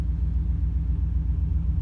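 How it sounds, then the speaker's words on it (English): A 1995 Chevrolet Camaro Z28 idles through a Flowmaster muffler and changed tailpipes, giving a steady, close, low-pitched exhaust rumble with an even pulsing throb and no voices. "As you can hear, the Flowmaster sounds pretty good."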